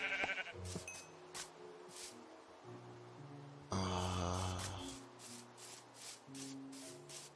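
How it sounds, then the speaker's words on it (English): Sheep in the Minecraft video game bleating several times, separate wavering calls spread over a few seconds, clear and close against a quiet background. "Where is the sheep? There he is. Come here, sheep."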